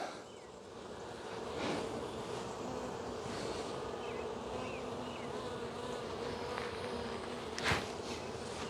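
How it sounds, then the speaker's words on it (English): Honeybees buzz steadily and close by in an open, smoked hive, a dense continuous drone with a few brief rustles, no voices. "Kind of move the bees out of it a little bit."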